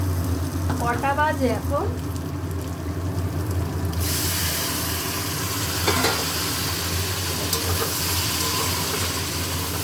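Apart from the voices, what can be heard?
potatoes and soybean frying and being stirred in spice masala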